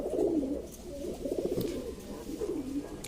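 Pigeons in a loft give soft, repeated throaty coos that rise and fall, close by over a faint background hum.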